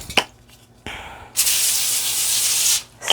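Cooking spray hisses from a can in a home kitchen before toffee is made, with a short spurt followed by a longer steady burst of about a second and a half, close and fairly loud.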